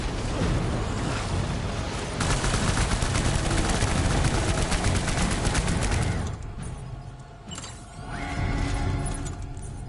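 A quad launcher in Death Stranding fires a rapid rattling barrage of blasts for several seconds, loud and dense, then drops off to a quieter rumbling tail.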